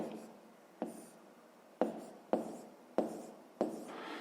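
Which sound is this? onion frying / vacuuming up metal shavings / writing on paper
writing on paper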